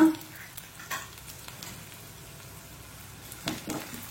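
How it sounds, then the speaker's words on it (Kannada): Curry leaves frying in a pan of hot oil for a Mangalore-style black pomfret gravy, a soft low sizzle under occasional scraping stirs of a spoon, close and fairly quiet. "ಸ್ವಲ್ಪ ನಾನು ಕರಿಬೇವಿನ ಸೊಪ್ಪನ್ನು ಹಾಕೊಳ್ತಿದ್ದೇನೆ."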